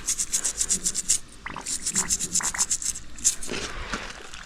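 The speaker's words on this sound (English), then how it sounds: "Just scrubbing that." Repeated brisk rubbing strokes as a horse's bare hoof is scrubbed during barefoot rehab, a steady rhythmic series of close, moderately loud scrapes with brief pauses between bursts.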